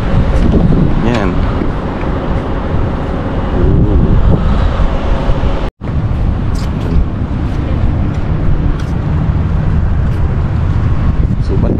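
Strong seaside wind at a marina in Salmiya, Kuwait, blasting continuously into the microphone as a loud, dense roar while a person talks over it.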